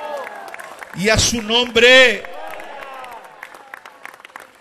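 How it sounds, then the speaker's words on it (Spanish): A church congregation claps steadily in the background while a man preaches loudly and emphatically over the applause. "Dele aplauso a Jesús en esta noche"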